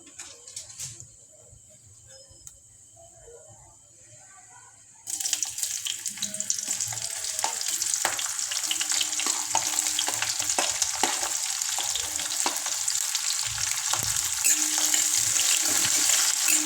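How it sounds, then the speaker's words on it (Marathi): Onion frying for a soya biryani: a quiet stretch gives way at about five seconds to a loud, steady sizzle with scattered crackles and spatters that carries on unbroken to the end, with no talking. "या ठिकाणी आपल्याला टाकायचा आहे हा कांदा."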